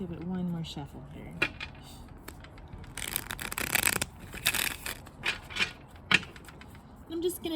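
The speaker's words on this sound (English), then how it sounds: "Let's give it one more shuffle here." Tarot cards from an Everyday Tarot deck are shuffled close up in quick papery riffles and flutters, with scattered soft taps between louder bursts in the middle, while a quiet voice murmurs in the background.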